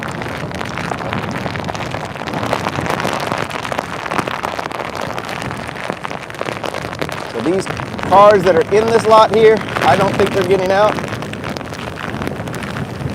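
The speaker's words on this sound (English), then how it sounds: "I know the wind is very, very intense." Strong Hurricane Ian wind roars steadily against the microphone in the streets of St. Augustine, Florida, with a rushing, rain-like buffeting, while someone talks over it throughout.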